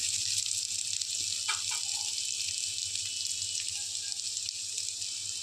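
Ridge gourd and paneer fry in a pan while being stirred, giving a steady, close sizzling hiss with a few faint scraping clinks underneath.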